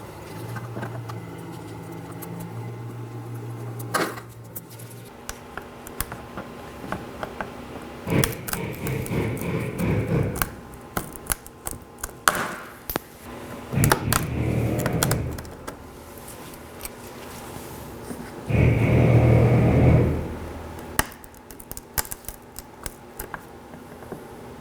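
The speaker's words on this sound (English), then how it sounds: "Now I'll be removing these with the trim tool." A trim tool prying plastic bumper clips off the front bumper of a 2013-2019 Nissan Sentra: sharp close clicks and snaps, scattered scraping, and several longer grinding bursts of plastic working loose, with no talking.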